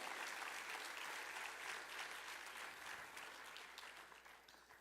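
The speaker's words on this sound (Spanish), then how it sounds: "Dale el fuerte el aplauso al Señor." Congregation at a church service applauding, a continuous broad wash of many hands clapping that fades slightly toward the end, heard with no one talking over it.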